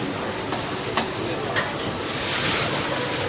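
Stir-frying with a splash of soy sauce in a wok at a Bangkok shopping-mall food court stall: close, continuous sizzle with a few sharp utensil clacks and a rising hiss near the end.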